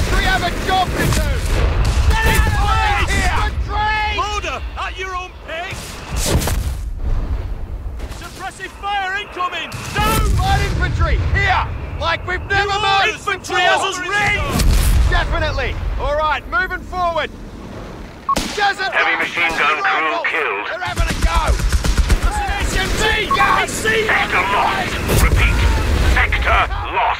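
Machine gun bursts and artillery booms from the World War II strategy game Company of Heroes 3 crack and thud repeatedly, heavily mixed with shouting soldier voices throughout.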